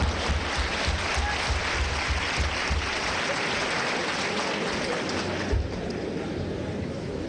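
An audience applauds after a speech on ethics at a university assembly, a dense, loud, sustained roar of clapping that fills the room and eases slightly toward the end.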